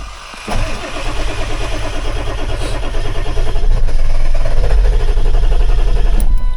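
Ford 7.3L Powerstroke diesel with a no-start fault cranks steadily and loudly for several seconds, a rapid rhythmic chugging from the starter and engine that grows slightly stronger partway through, with no talking.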